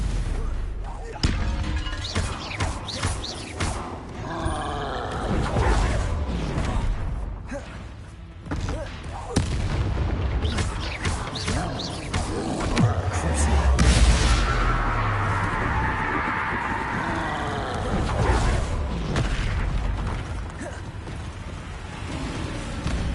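Hogwarts Legacy-style spell blasts in a game, a Stupefy stun spell among repeated casts, with sharp thuds and crackling bursts landing in busy succession under near-constant shouted voices and layered game effects.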